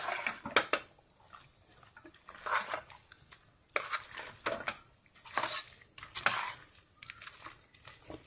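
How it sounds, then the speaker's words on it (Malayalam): Jackfruit erissery curry stirred in a metal pot, with a spoon scraping and clinking against the sides in irregular bursts, close and fairly quiet, no talking. "ഇനി നമുക്കൊന്ന് നന്നായിട്ട് ഇളക്കാം"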